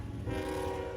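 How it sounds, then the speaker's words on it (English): A CSX freight train, intermodal I-136, rumbles past westbound on the Alexandria extension at Lloyd Street, a loud, steady low roar of engines and rolling cars with a tonal horn-like hum. "here's CSX I-136 coming westbound on track number 3 down the Alexandria extension at Lloyd"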